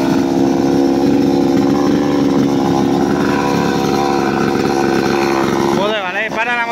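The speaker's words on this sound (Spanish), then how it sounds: "para la motosierra, que se va" A chainsaw cuts a chestnut wood beam with a loud, continuous buzzing drone. Near the end the engine drops and winds down unevenly as a voice speaks over it.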